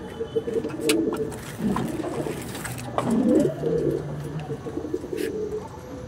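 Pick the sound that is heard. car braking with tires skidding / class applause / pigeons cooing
pigeons cooing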